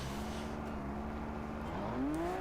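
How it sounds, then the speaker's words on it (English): V10 car engine in the racing game Sportsman Unlimited 2, a steady droning hum that climbs in pitch near the end as it revs up, heard close and continuous. "it sounds like a V10 if you're curious what the engine is"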